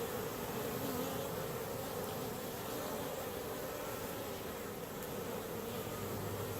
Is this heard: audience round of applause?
no